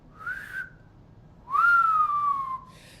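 A person whistles in imitation of an old-school cartoon whistle: a short bright tone, a pause, then a longer, louder note that swoops up and glides slowly down, clear and close with no talk.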